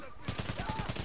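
Rapid automatic gunfire in The Division's co-op play bursts in suddenly, with evenly spaced, punchy shots rattling off about ten times a second, loud and close.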